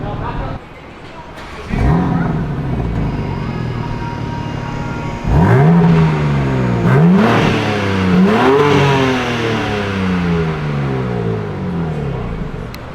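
A BMW G82 M4 engine revs up in several sharp rising bursts through an aftermarket Bomiz exhaust, crackling and burbling between pulls, loud and close.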